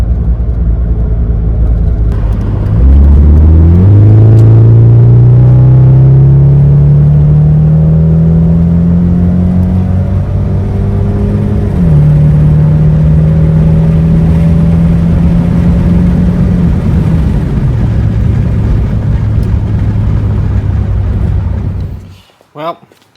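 A Mitsubishi Eclipse DSM under way, its engine droning loud and close as it climbs steadily in pitch, dropping sharply at two gear shifts before fading out near the end.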